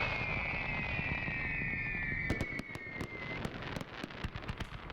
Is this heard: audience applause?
no